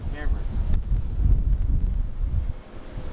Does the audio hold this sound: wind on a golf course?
yes